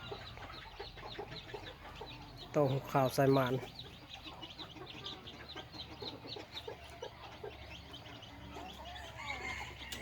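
A farmyard chicken near hatching eggs lets out a quick run of clucks close by, a short burst amid faint background bird chirps, with a person talking in Thai around it.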